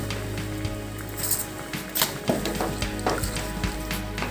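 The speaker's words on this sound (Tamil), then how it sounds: "நல்லா கொதிக்கட்டும்" Salna gravy simmering in a pan, bubbling and crackling steadily at close range with irregular pops and sizzles throughout, no voices.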